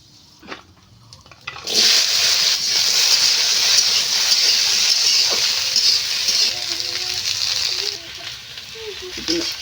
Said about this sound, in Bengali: দিয়ে দিচ্ছি কালো জিরা ফোড়ন